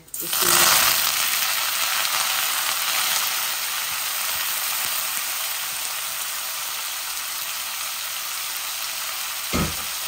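A large onion fries in hot oil in a cooking pot, a bright broadband sizzle that flares loudly at first and then settles into a steady hiss, with a brief stir or clatter near the end.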